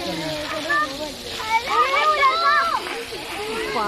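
Water sprays under pressure from a fire extinguisher during a building fire drill, a continuous hissing rush aimed toward a parked car and scooter, with children and adults talking over it.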